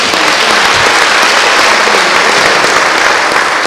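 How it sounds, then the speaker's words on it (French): An audience at a ministerial opening address for an International Women's Day celebration breaks into loud, dense, sustained applause with no voices on top. "Je pense que nous pouvons applaudir cette initiative."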